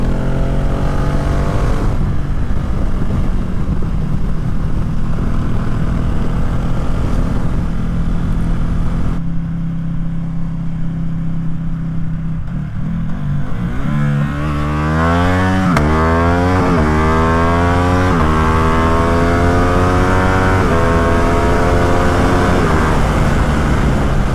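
A Ducati Streetfighter motorcycle with an Arrow exhaust and no silencer roars through a loud full-throttle pull, its engine note climbing through several gear changes on a downhill slope, close and continuous with no talk.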